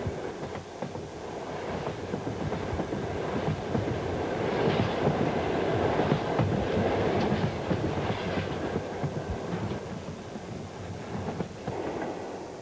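The Vostok, a Trans-Siberian passenger train, running on rails with a steady rolling rumble and repeated clickety-clack from the wheels, unbroken for the whole stretch and with no talk.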